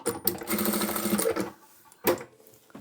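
Sewing machine backstitching fabric, a fast rhythmic stitching run for over a second, then a pause and a short second burst, close and clear.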